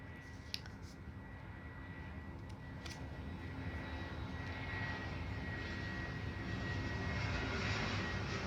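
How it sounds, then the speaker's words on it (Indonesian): An airplane passes overhead with a steady engine roar that slowly swells louder over several seconds, with a couple of faint clicks early on and no voices. "ada pesawat lewat ya"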